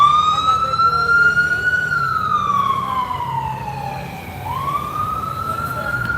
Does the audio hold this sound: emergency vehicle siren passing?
yes